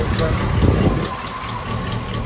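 A 1959 Cadillac Series Sixty-Two coupe's engine idles on a cold morning just after starting, a loud, steady low rumble with slight unevenness, while someone talks close by.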